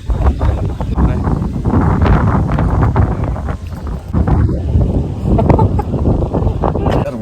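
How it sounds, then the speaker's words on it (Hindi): Strong gusty wind in bright sun buffets the microphone as a steady, loud roar with rumbling surges throughout, no clear talk over it. "बढ़िया कॉम्बिनेशन बना है धूप और तेज हवाओं का।"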